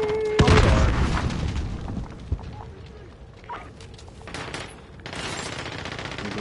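A grenade explodes in a Call of Duty game on PS5 with a heavy close boom, followed by scattered gunfire, thuds and debris, and a second burst of noise near the end.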